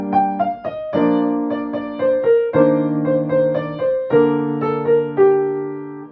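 Solo piano plays a section of Carol of the Bells, close and clear, with a steady repeating left-hand pattern under a right-hand melody of distinct struck notes.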